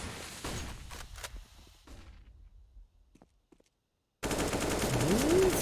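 Gunfire in the video game Counter-Strike, with rapid bursts of shots that fade into quieter scattered cracks, a stretch of silence, then a loud dense burst of game noise with a rising tone.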